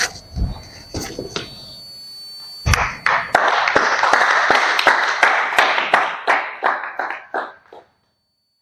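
An audience claps for a guest speaker at an indoor event, with a burst of applause followed by scattered claps that thin out and stop near the end; no one speaks over it.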